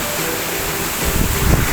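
Pungbunga waterfall pouring steadily, a broad even rush of water that swells slightly louder toward the end, with no voices present.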